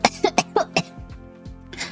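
A person coughs several times in quick succession, close and fairly loud, followed by a brief pause and a softer throat sound.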